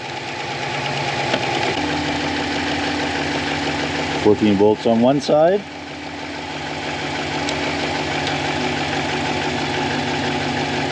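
A 4th-generation RAM truck engine idles steadily and close by throughout, with a person talking over the running engine partway through.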